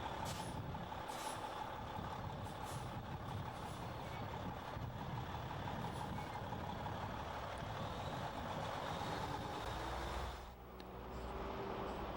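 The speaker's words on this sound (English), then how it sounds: "negotiate the truck through 2 sets of barricades that are set off-center" Truck engine rumbling steadily as the vehicle is steered through two sets of off-centre barricades on a driving test course, a continuous low drone heard from outside with a brief dip near the end.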